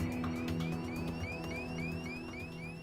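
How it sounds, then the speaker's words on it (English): A repeating rising electronic cabin altitude warning tone chirps steadily over a low droning hum in an aircraft cockpit, faint and distant. "That's the cabin altitude warning."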